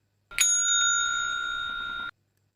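An office call bell, rung by an official to summon a peon, gives one bright, sustained ring of about two seconds. It sounds close and clear, with no other sound around it.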